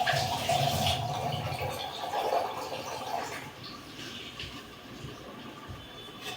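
Water is poured into simmering dal with brinjal: a soft, splashy rush for the first few seconds that thins to a faint, low background hiss.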